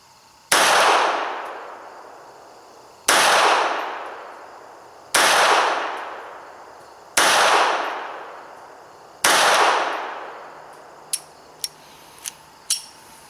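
Five loud, sharp gunshots from a .32 NAA Guardian double-action pistol fire slowly and evenly, roughly two seconds apart, each with a decaying ring, followed by a few small metallic clicks.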